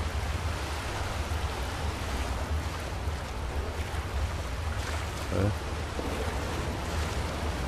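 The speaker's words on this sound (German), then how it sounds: "Ein Wasserfall." A waterfall in the video game Skyrim gives a steady, full rushing roar of falling water that stays constant throughout, close and loud.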